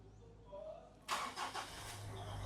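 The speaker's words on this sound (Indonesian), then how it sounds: "kita akan nyalakan agar teman-teman nonton suara mesinnya" A Mitsubishi Pajero diesel engine cranks and fires at close range, a sudden loud burst that settles into a steady idle with a low, even rumble. The Pajero is a low-mileage, fully original example.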